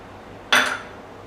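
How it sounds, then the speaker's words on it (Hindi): Chopped dry fruits and nuts such as cashews tip into a metal kitchen pot with a single short clatter and clink, close by and brief, followed by quiet. "अब हम इसमें डालेंगे जो हमने ड्राई फ्रूट कट करके रखे हैं, उनको इसमें हम ऐड कर देंगे।"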